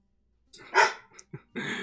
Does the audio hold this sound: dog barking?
yes